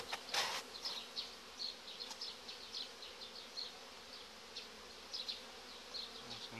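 Honey bees buzz at an open hive colony during an inspection, a faint, steady hum with brief louder passes of single bees near the listener and a few sharp knocks early on.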